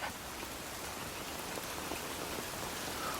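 Steady rain falls on a wet day in a rural English village, a dense, even patter of drops that stays constant throughout with no voices.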